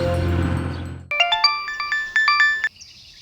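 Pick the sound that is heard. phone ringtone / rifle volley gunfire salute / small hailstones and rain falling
phone ringtone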